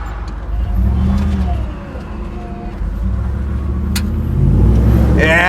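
A restored 1971 Ford Bronco drives on a road, its engine a steady low rumble that swells near the end as it picks up speed, with faint voices in the cab.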